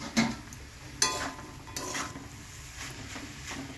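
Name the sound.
vegetables being stir-fried with spices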